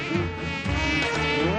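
Flies buzzing close by, a continuous droning hum that wavers in pitch as the insects move around, loud and alone with no voices.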